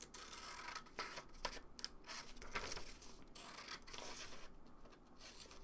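Scissors snip through a paper roof piece for a cut-out building model, giving steady close rustling and crisp cutting strokes that continue without pause.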